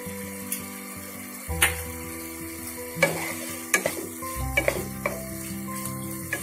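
Paneer cubes coated with flour sizzle softly in a pan while a spatula stirs them, with several sharp scrapes and knocks against the metal.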